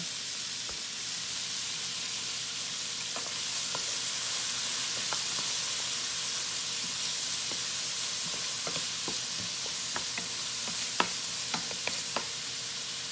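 Onions frying and caramelizing in a pan, a loud continuous close sizzle with occasional small pops and crackles throughout.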